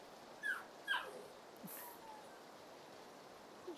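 A puppy whimpers in short high whines, two clear cries early then softer fading whimpers, close but faint over a quiet background hiss.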